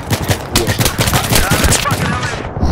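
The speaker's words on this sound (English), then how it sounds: "I'm just going to pop a new clip in this SG553." Rapid automatic SG553 rifle fire in Battlefield 3 on the Gulf of Oman map, dense bursts of loud shots layered with game battle noise throughout.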